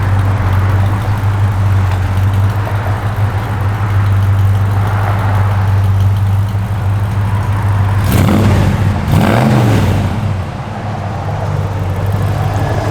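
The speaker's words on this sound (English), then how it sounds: "Great sound. That's a Magnaflow dual exhaust." A 1966 Chevrolet C10 pickup idles with a deep, steady exhaust rumble through a Magnaflow dual exhaust, then gives two sharp revs close by before settling back to idle.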